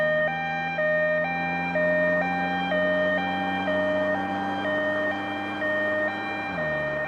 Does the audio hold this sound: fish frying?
no